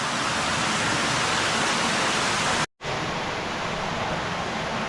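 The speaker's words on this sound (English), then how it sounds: "We got a waterfall and all kinds of formations." Steady broadband rush of a waterfall inside a cave full of rock formations, loud and continuous for the whole stretch, with one brief dropout near the middle.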